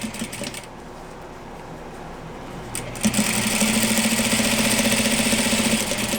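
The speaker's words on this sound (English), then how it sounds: "And again, sew as close as possible to the edge." A sewing machine stitching along the edge of plaid fabric. It starts with a low hum, then runs in a steady, close, whirring drone for several seconds.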